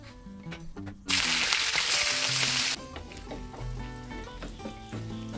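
Oil sizzling in a pan over medium heat as food is dropped in to fry, a sudden loud hiss that holds for about two seconds and then settles into a quieter steady crackle under faint background tones.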